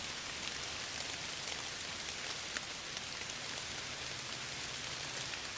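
Steady rain falls continuously, a dense even hiss of drops with occasional louder taps, unbroken and alone for several seconds.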